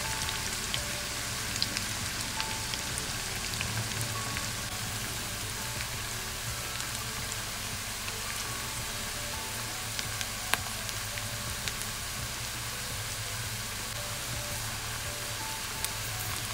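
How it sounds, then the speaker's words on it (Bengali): Onions fry in hot mustard oil for a Hyderabadi spicy chicken curry, giving a steady, dense sizzle with fine crackling that runs unbroken throughout, with no voices. "পেঁয়াজগুলোকে এই তেলের মধ্যে দিয়ে দেব। তারপরে পেঁয়াজগুলোকে ভালো করে ফ্রাই করে নেব।"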